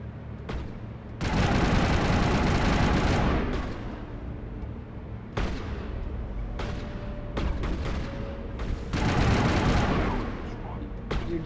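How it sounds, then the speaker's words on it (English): Bursts of rapid automatic gunfire and heavy blasts erupt in a Mass Effect firefight, several loud sustained volleys separated by brief lulls with scattered single shots. "We're gonna shoot this place up."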